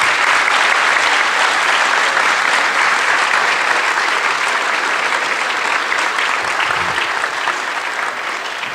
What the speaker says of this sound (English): If you'd like to give a round of applause for our bronze winners.